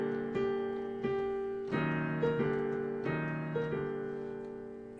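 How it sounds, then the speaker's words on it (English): Imperial March from Star Wars played on piano, a few repeated marching chords and melody notes in a steady rhythm, fairly quiet and close, with no voices. "I can't play the real recording for you, so I'm just going to play it on piano."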